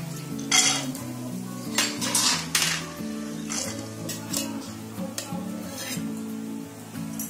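Roasted karanji filling being scraped from a pan into a wide plate with a metal spatula, repeated scraping and clinking strokes, fairly close and moderately loud, over soft background music.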